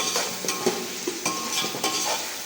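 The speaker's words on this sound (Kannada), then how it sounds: "ಒಂದು 5 ನಿಮಿಷ ಫ್ರೈ ಮಾಡ್ತಾ ಇದ್ದಾರೆ" Food frying in a pan with steady sizzling, broken by regular scraping and clinking strokes of a stirring utensil, close and moderately loud, no voices.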